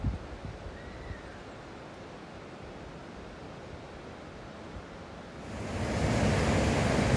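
Steady broadband rush of falling water at the top of a waterfall in the Pantanal, a constant roar that swells louder near the end.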